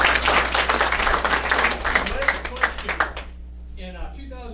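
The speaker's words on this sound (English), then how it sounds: "Let's have a round of applause." Audience applause in a county meeting room, dense sustained clapping that fades out after about three seconds, leaving quiet room tone with faint talk at the end.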